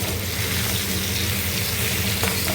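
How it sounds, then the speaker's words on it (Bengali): Onion fries in a pan with salt, turmeric, cumin and coriander powder, giving a loud, dense, continuous sizzle up close, steady throughout with no talk. "এটা এরকমই ফ্রাই ফ্রাই হয়।"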